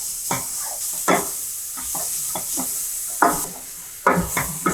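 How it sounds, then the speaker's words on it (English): Onions with spices are stirred in a hot pan for a spicy egg curry: a low sizzle runs beneath about eight rhythmic scraping strokes of a spoon, each a short rough burst, close and unaccompanied by talk. "we're gonna stir the onion well with the spices"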